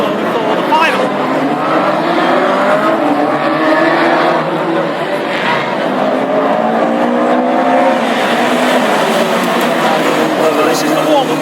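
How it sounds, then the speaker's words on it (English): Classic hot rod race cars rumble around an oval track on a rolling warm-up lap at Lochgelly, a continuous layered engine drone with rising and falling passes, loud and steady, with talk over it. "this is a rolling lap start for the heats"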